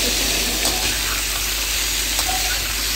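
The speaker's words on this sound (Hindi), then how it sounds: "इसको हम ना फिर एक मिनट सौते करेंगे चिकन के साथ" Chicken sautés in a pan with a dense, continuous sizzle up close, broken by a few faint scrapes and pops from stirring.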